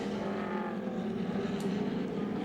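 Touring cars racing at Lakeside in 1989, a steady, loud engine roar sustained throughout with no break, cars close and continuous rather than passing singly.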